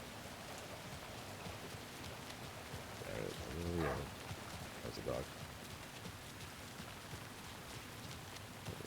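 Steady rain falls in the dark, spooky Alan Wake 2 video game, a soft continuous hiss running throughout, with someone speaking briefly over it partway through.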